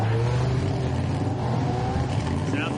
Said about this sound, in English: Sounds like Nova's got a little turbo to it there